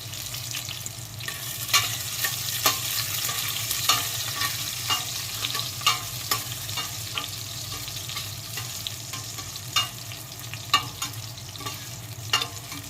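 Garlic sautéing in a pan with onion and ginger, a continuous sizzle and frying crackle punctuated by regular scrapes and clicks of stirring, close and steady.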